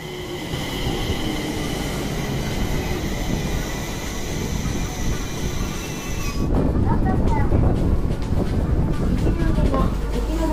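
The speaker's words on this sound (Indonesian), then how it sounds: "Bisa dilihat ya, itu keretanya datang tuh." A train rumbles into a station in Japan, its rolling noise building and growing louder partway through, with faint voices and platform bustle underneath.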